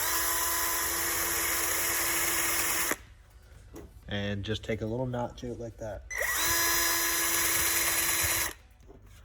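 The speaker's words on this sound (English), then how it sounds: "this is a very slow speed drill" A steady high-pitched whine of a slow-speed drill turning a reamer in a VW Golf 2.0 cam bore, running alone for a few seconds, pausing while someone speaks briefly, then whirring steadily again before stopping.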